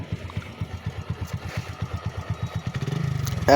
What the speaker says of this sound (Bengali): দেখেন তো, আপনারা কি বুঝতে পাচ্ছেন যে বাইকটা স্টার্ট আছে এখন?